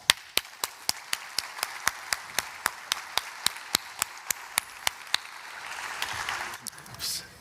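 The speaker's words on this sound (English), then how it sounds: "So now, big hand of applause" Slow, evenly spaced claps ring out one after another after a conference panel, sharp and fairly quiet over a faint murmur of voices that swells toward the end.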